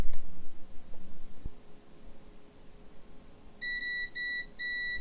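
A multimeter's continuity beeper sounds on a laptop motherboard, a Medion Erazer X17805, giving three short, clear electronic tones in a quick row after a quiet stretch of faint handling noise.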